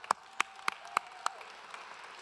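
Sparse scattered clapping from a small crowd at an outdoor women's march: five distinct sharp claps spaced about a third of a second apart, fairly faint and distant, then fading into quiet room tone.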